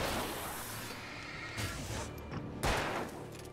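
Chaotic gunfire from a firefight in the Alan Wake video game, with several louder bursts and impacts standing out from a dense, noisy background.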